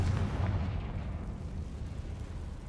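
A Confringo fire spell bursts in Hogwarts Legacy with a deep, rumbling explosion that booms up front and then decays over a couple of seconds, heard alone without talk.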